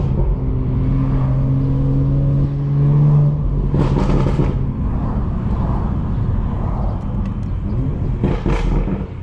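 A BMW 440i drives through the Bronx, heard from inside the cabin: a loud, steady engine drone rises in pitch as the car accelerates, with brief bursts of road or wind noise over the constant rumble.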